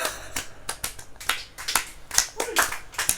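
Scattered audience clapping at an Indonesian comedy talk show, a loose handful of sharp claps at uneven intervals, fairly close and moderately loud, with faint voices underneath.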